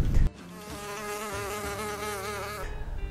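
A tiger mosquito buzzing close by, a steady high-pitched whine lasting a couple of seconds before fading into background noise.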